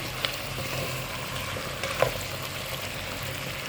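Avial, the Kerala mixed-vegetable dish, being stirred and combined in a pan, giving soft continuous scraping and a low sizzle with a few sharper spoon clicks, fairly quiet and without talk.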